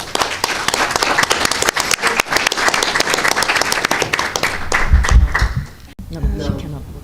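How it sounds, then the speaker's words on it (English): Audience at the close of an academic conference on feminism, gender and radicalization breaks into loud, sustained clapping with sharp individual claps, swelling briefly before cutting off, then giving way to faint talk and room noise. "I think we need a final round of applause"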